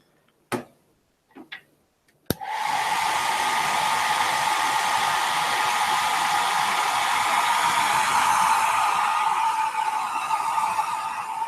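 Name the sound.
hair dryer running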